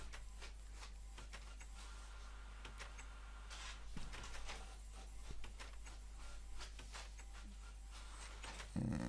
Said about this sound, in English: I apologise for this very noisy printer